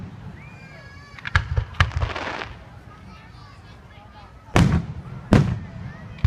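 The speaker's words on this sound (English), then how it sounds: "let's wait till the fireworks are over" Fireworks bursting outdoors at a public display, several sharp booms and crackles spaced irregularly, moderately distant, with quiet stretches between.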